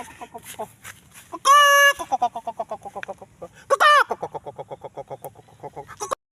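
Chickens cluck in a quick rhythmic series, broken by two loud, harsh squawks, close by and with no talking.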